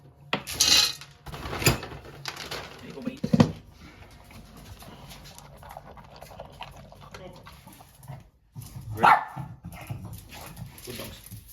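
A dog barks a few times in short bursts amid kitchen clatter and a person speaking, with quieter stretches between.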